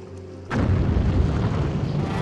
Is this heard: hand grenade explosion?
yes